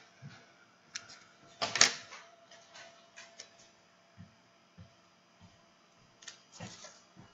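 Small scissors snipping a Jamberry nail wrap to size, a handful of quiet, close clicks and snips spread unevenly over several seconds with one sharper cut near the start.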